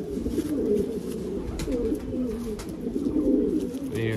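Teddy knot pigeons coo at close range in a home loft, a continuous run of soft, throaty, burbling calls over a busy background.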